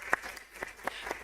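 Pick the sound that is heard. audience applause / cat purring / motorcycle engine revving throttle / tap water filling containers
audience applause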